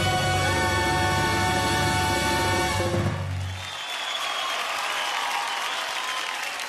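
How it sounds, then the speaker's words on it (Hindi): On the Indian Idol stage, a held musical chord from the musicians fades out and gives way to loud, dense audience applause that continues steadily to the end. "और एक बार रॉबिन जी और सनी के लिए जोरदार तालियां।"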